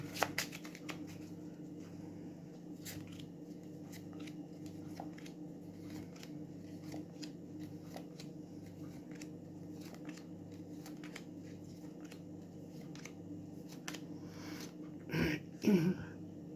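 Soft, steady shuffling of tarot cards with a brief flurry of riffling near the end, quiet and close, with no talking.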